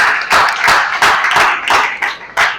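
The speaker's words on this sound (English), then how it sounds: "Please a round of applause for Dr." A medical conference audience claps in a short burst of about eight distinct, fairly loud claps spaced irregularly, sounding like a small group rather than full applause.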